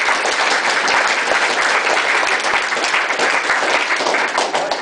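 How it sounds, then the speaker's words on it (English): Wedding guests applaud during a best man speech, a loud, dense and continuous burst of clapping from a full room that holds steady throughout. "A round of applause for them."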